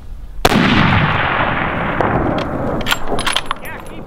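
A sharp, loud rifle shot cracks out nearby while hunting a desert bull, followed by a long rolling echo; a few fainter pops and bursts come near the end.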